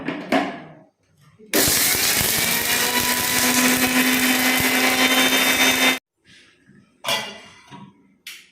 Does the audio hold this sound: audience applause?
no